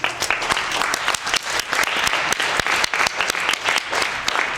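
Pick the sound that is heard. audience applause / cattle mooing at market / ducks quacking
audience applause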